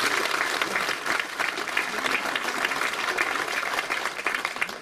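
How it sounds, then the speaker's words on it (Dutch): Sustained audience applause at a Hardenberg municipal award ceremony honoring local volunteers, a steady dense wash of many hands clapping at moderate volume for several seconds with no talk over it. "Applaus."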